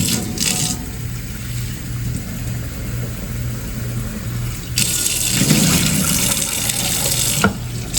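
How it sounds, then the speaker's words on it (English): Water rinses a very dirty fabric chair during upholstery cleaning, a steady close splashing and hissing flow that grows fuller and louder partway through, with a low hum running underneath. "So I usually just rinse this off here."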